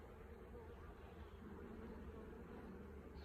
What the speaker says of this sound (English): Quite busy bees.